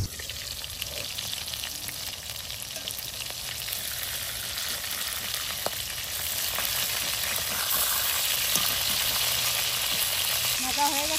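Food fries in a pan, browning, with a continuous bright sizzle that holds steady and grows slightly louder over time, with no voices.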